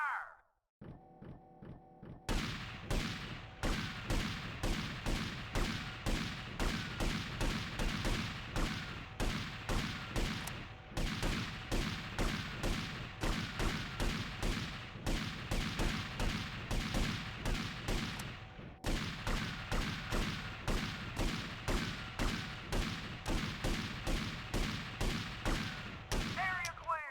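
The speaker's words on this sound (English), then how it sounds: "Aim! 3, 2, 1, fire!" Gunfire volley in GTA Vice City, a long steady string of rapid, evenly spaced shots at close range, broken by a couple of short pauses.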